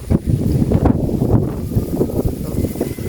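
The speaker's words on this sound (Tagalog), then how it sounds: "super duper hangin" Strong wind in a garden buffets the microphone in a steady, rumbling roar with gusty swells, loud and continuous throughout.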